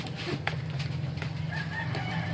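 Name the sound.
chicken crowing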